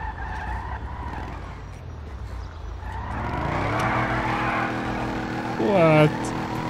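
A Corvette engine revs in the GTA 5 video game, its low rumble building to a louder, rising rev near the end, with a person talking over it.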